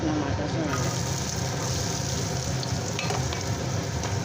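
Onions frying in hot oil, a loud, dense, continuous sizzle heard close up with a constant crackling hiss throughout.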